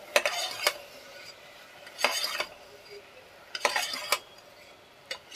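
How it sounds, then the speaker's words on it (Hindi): Peas, potatoes, other vegetables and daliya (broken wheat) being stirred and fried in a pan, giving three bursts of scraping spoon-against-pan stirring at close range over a quiet background, with no talk. "अब इसको अच्छे से हम भून लेते हैं।"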